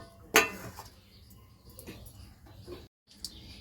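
A metal lid comes off a handi cooking pot with one sharp clink, followed by faint soft kitchen clatter and a brief quiet stretch.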